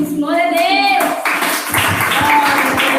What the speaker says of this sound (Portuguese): Vamos receber o pastor com mais palmas